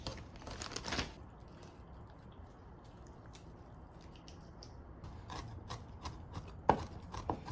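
Green onions and mint chopped on a board with a knife, a quick cluster of sharp taps at the start, a quiet stretch, then more scattered chops near the end, close but fairly soft.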